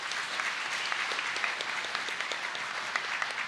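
Sustained applause from a large audience at a higher education minister's 2016 New Year address, dense, steady clapping with scattered sharper claps, moderately distant and even throughout with no talk over it.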